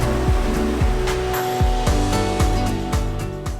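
Rushing river water in Lynn Canyon, Vancouver, a steady broadband roar of fast cold water, loud and close, with repeated low thumps running under the wash.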